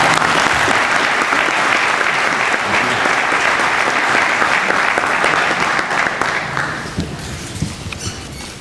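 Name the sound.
audience applause welcoming the speaker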